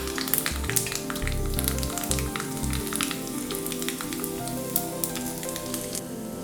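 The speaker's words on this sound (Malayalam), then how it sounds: "വെളിച്ചെണ്ണ ചൂടായി വരുമ്പോൾ അതിലേക്ക് 1 ടീസ്പൂൺ കടുക് ചേർത്ത് കടുകൊന്ന് പൊട്ടി തുടങ്ങുമ്പോൾ 1/4 ടീസ്പൂൺ ഉലുവ ചേർക്കാം" Mustard seeds, fenugreek and dried red chillies sizzle steadily in hot coconut oil while tempering a Kerala-style sambar, with a constant close crackle and spitting over soft background music.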